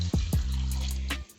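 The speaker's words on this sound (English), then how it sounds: "Add your water." Water is poured from a container into a pot of stew for Ghana jollof rice, a steady, fairly loud gushing fill with a couple of splashy bursts at the start and a tapering trickle at the end.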